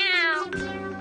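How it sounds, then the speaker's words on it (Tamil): A single loud, close cat meow, long and drawn out with a falling pitch, heard alone. "இந்த பூனைக்கு தான் நிறைய குட்டிகள் பிறந்துச்சு தெரியுமா?"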